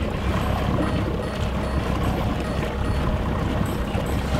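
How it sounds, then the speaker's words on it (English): A small outboard motor on a fishing boat hums steadily amid water rush and splashing while a walleye is landed, a continuous close drone with no talk. "Turn that motor off."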